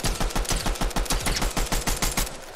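Rapid, loud automatic gunfire in a Fortnite cash cup match, a steady stream of bursts filling the whole stretch with no talk over it.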